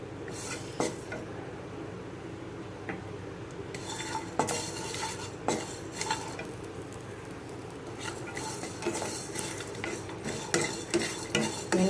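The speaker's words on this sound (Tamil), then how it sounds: "எண்ணெய் ஊற்றாமல் தான் வறுக்கணும்" Cumin and cinnamon dry-roasting in a pan without oil over low heat, soft crackle under frequent scraping stirs and a few metallic utensil knocks, close but quiet.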